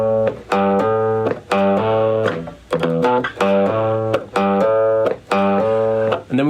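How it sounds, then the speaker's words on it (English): A distorted electric guitar plays a repeating riff of chopped, rhythmic chords from a track, loud and up front, with short gaps between phrases. "so we started off with a guitar riff, which sounds like this"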